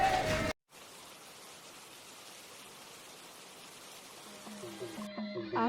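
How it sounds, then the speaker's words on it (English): Rain falls steadily over a village in Myanmar as a soft, even hiss, with a few tonal sounds creeping in near the end. "dark clouds gather and the long-awaited rain begins to fall"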